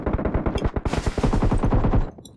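Rapid automatic machine-gun fire in the mobile battle-royale game PUBG Mobile, loud close bursts of rattling shots in quick succession with a brief break, no talk over the firing.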